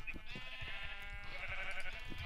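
Sheep in a video game give a few bleats, moderately loud and nearby, with a soft background hum and light clicking underneath.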